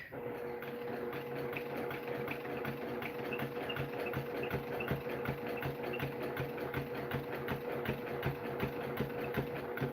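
A domestic sewing machine doing free motion quilting runs in a fast, steady mechanical patter of needle strokes, soft and continuous for the whole stretch with a faint motor hum beneath.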